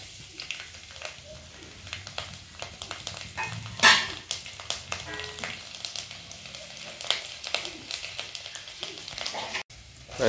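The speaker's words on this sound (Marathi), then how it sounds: "इकडे आपण फोडणी द्यायचं काम चालू केलंय" Garlic and cumin tempering in hot oil for a dried chickpea-leaf dish give a steady, fairly quiet sizzle and crackle lasting throughout, with a few sharper pops and utensil clinks near the middle.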